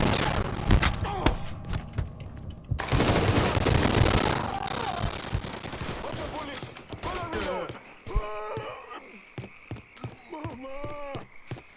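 Gunfire in Mafia III, a loud sustained burst of rapid shots and heavy thuds, then scattered single impacts while voices shout and talk.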